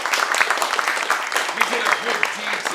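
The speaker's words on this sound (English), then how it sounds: "Give yourselves a round of applause." Audience applause rolls through a studio crowd at the close of a show, a busy clatter of clapping with a voice talking over it throughout.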